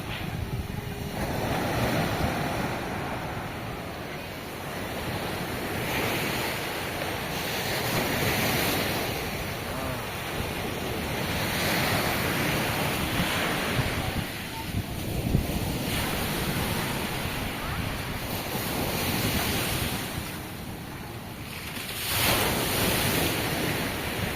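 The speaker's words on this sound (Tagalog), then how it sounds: "Lakas ng wave." Strong ocean waves crash onto the shore in repeated surges, heard up close under heavy wind buffeting the microphone, with no clear talking.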